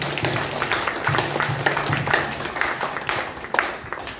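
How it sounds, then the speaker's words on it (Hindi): An audience at a spiritual camp in Haridwar claps, with scattered, uneven applause that rises and falls at moderate volume across several seconds. "तो जोरदार तालियां होनी चाहिए आप सभी के लिए।"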